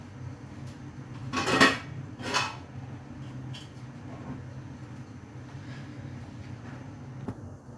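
A pot of fish curry is set down on a home kitchen stove with two quick metallic clanks, followed by a low, quiet room hum.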